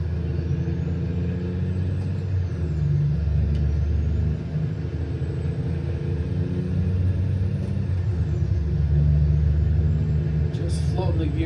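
Simulated truck engine in American Truck Simulator, a low steady diesel rumble that dips and rises as gears are floated through shifts, with a faint hiss near the end.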